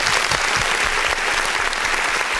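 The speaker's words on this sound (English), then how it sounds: "Let's give a round of applause." Applause on a podcast set, a dense, steady burst of clapping lasting a couple of seconds, close and fairly loud with no talk over it.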